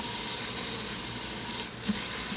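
Ground meat sizzling steadily in an Instant Pot on the saute setting, a continuous close hiss and crackle with no talking.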